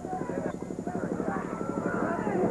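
A helicopter passes over a 1997 high school football game, its rotor thumping in a fast steady pulse that grows slightly louder, with a commentator talking over it.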